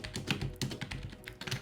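Quick, light keystrokes on a cheap mechanical-feeling keyboard clatter in an irregular rhythm, close and fairly quiet, with no talking.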